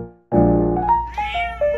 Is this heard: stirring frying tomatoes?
no